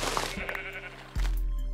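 A Minecraft sheep gives a loud, close bleat against a droning game background, then a sharp low-pitched thump lands near the end.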